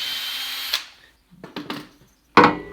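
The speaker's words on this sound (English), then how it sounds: "Using that same 1/8 inch drill bit, just go through them" A power drill with a 1/8 inch bit bores a hole in wood during a kids' woodworking project: a short whirring burst, a pause, a few choppy stuttering pulses, then a final loud burst close by.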